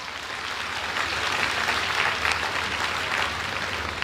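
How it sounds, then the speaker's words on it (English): A graduation audience applauds with dense, sustained clapping that holds at an even level throughout. "Yes, man, clap yourselves."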